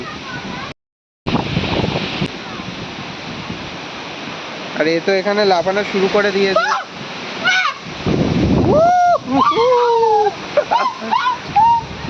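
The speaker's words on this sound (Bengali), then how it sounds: "কি হাওয়া ভাই!" Strong wind on a rooftop during a storm buffets the microphone in a steady roar, with a person speaking over it and brief excited voices rising above the gusts.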